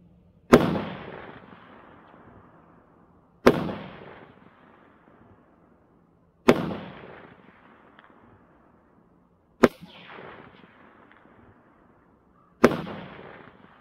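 Five sharp rifle shots from a Lockhart Tactical Raven 5.56 firing Remington ammunition, evenly spaced about three seconds apart, each loud crack trailing off in a long echoing decay outdoors.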